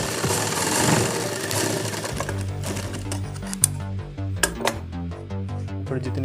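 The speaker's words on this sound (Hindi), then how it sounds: "इस पर इस सिलाई लगा देनी है" Electric sewing machine stitching the back pocket of a pair of trousers: a steady mechanical clatter begins after about two seconds and runs on in an even, close rhythm, with a few sharp clicks.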